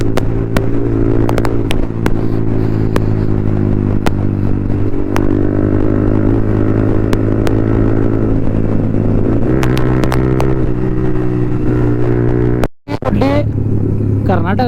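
Modified motorcycle revving as the throttle is opened at the India Bike Week 2025 gathering in Panchgani, a loud, steady engine drone with harmonic bands that rise and fall with throttle, with a brief dropout near the end.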